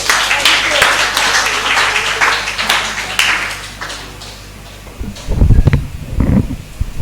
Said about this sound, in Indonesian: Tepuk tangan untuk Bu Sri.